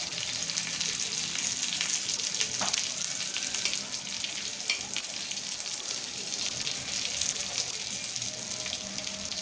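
Stuffed capsicum frying in a pan, a continuous close hiss and crackle of sizzling oil with a few small pops, steady throughout and without talk.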